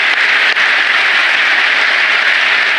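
Parliamentarians give sustained, dense, loud applause that fills the whole hall with steady clapping and no pauses.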